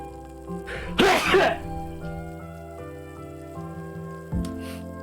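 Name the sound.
sneeze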